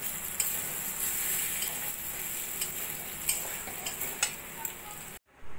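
Pointed gourd (parwal) and slit green chillies fry in a pan while being stirred, with a continuous bright sizzle and periodic spoon clicks against the pan before the sound cuts off abruptly.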